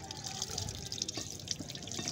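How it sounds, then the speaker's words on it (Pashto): Water running and splashing from an opened GI pipe being serviced, a steady faint gush with small drips and trickles, close and alone. "اوس چې دی پیپ خلاص دا وګورئ اوبه راغلې اوبه راغلې"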